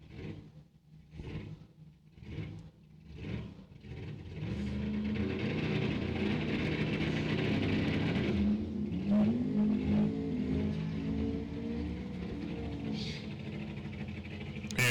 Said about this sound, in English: Mike LeBate firing up.